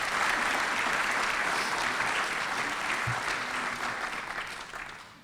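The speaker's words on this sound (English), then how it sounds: "Can we give them a big round of applause for that?" Audience applause for the city council at a Johns Creek State of the City Address: dense, sustained clapping from a large crowd, holding strong before slowly fading toward the end, with no talk over it.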